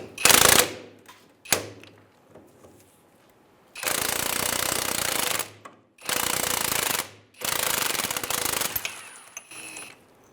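A power tool backs out the rear strut bolt on a 2003-2011 Honda Element in loud rattling impact bursts: a short one, then three long sustained runs separated by pauses, close and harsh.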